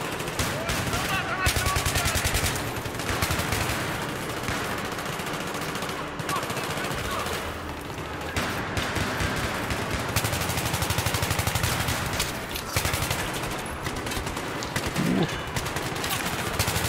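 Rapid machine-gun and rifle fire in the video game Battlefield 3 during a 64-player match, dense continuous bursts of gunshots at steady loudness with brief pauses.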